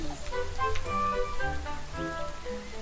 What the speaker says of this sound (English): The rain's only getting worse.